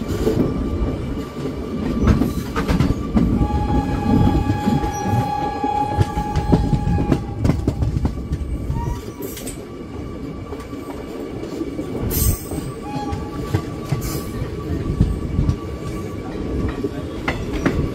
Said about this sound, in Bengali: আমাদের ট্রেন পূর্ণিয়াতে প্রবেশ করলো প্রায় 50 মিনিট ডিলে।